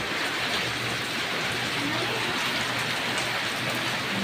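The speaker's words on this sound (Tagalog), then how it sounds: "Napakalakas ng ulan dito sa amin" Heavy rain pours down steadily, a dense, constant hiss of drops hitting surfaces with no letup.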